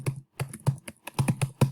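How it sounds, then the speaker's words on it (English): Computer keyboard typing up close, a short irregular run of crisp key taps with brief gaps, clear and alone. "let's type this participant"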